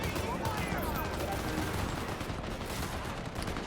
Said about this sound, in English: I see cops on this side. I don't know who they're shooting at, though.